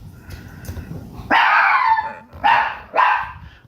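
A dog barks and howls indoors in the early morning, answering other dogs. Three loud, close, drawn-out yowls rise over a low rumbling background, each tailing off, with no talking.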